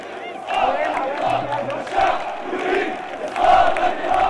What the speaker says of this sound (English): Calls for the downfall of the regime echoed among many in this crowd gathered in front of the Al Husseini Mosque in downtown Amman